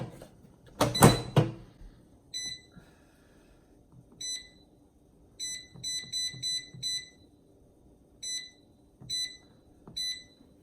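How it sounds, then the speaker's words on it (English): A COSORI air fryer signals that it is done with sets of three short, high electronic beeps, repeated several times at moderate volume after a brief clatter, with no talking. "So it just finished and it beeps 3 times when it is done."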